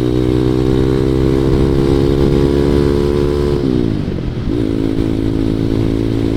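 A ZS 190cc Honda Grom clone motorcycle on a first ride. Its single-cylinder engine drones loud and close at a steady pitch, then the revs dip briefly and pick back up, with wind and road noise around it.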